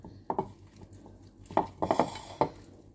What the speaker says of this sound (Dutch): Nou, ik ga nu alles proberen te roeren.